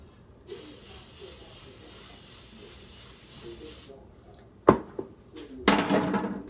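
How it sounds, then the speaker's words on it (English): Cooking spray hisses in long steady bursts onto cake pans, followed by a clank of metal and another short spray. "we're going to spray these pans and just set them over to the side."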